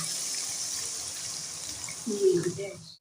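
A steady water hiss runs for about two seconds, then water pours into a pan of fried spice masala with a brief, louder splashing gurgle near the end, close by.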